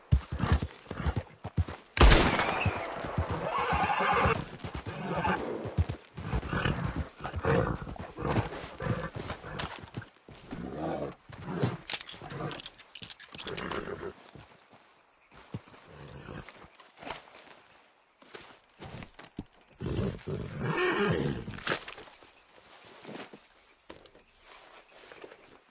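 A horse in the Red Dead video game clip-clops at a steady trot with a loud whinny near the start, its hooves continuing under occasional background game sounds and brief spoken urging.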